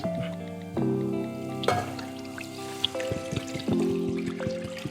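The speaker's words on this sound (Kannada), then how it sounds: "ಈಗ ನೀರು ಹಾಕೋದು" Water is poured into a cooking pot while making shengole, a traditional Maharashtrian dish, in a few short close pours that splash and trickle with shifting, ringing tones, and faint drips come between them.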